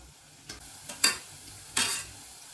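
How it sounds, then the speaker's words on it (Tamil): Sweet vadai deep-frying in hot oil over moderate heat, a steady soft sizzle broken by three or four brief scraping stirs of a ladle in the pan, close by with no talk. "ஒரு மிதமான ஹீட்லேயே வச்சு நம்ம நல்லா ஃப்ரை பண்ணிக்கலாம்"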